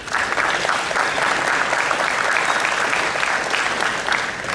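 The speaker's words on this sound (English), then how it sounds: "So I want to give each and every one of you a big round of applause." Audience applause at a business expo in Arlington, Texas: sustained, dense clapping from a large crowd filling the room at steady loudness throughout.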